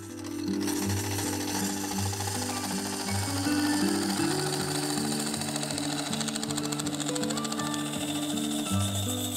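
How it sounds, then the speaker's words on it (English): Carbide scraper cutting a yew hollow form on a wood lathe, a steady continuous grinding whir with a humming motor drone and rhythmic scraping texture throughout, close and fairly loud, with no talking. "I slowly worked the cutting head from the base up towards the top, then back down again, trying to maintain even pressure on the surface and keep the tool level"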